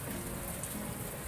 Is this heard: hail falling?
yes